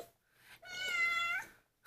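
A single cat gives one clear, drawn-out meow, close and fairly quiet, in a quiet room.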